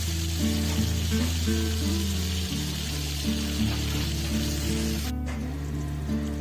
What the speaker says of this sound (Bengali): 1/2 চামচের মতন হলুদ দিয়ে আলুগুলো একটু ভেজে নিচ্ছি।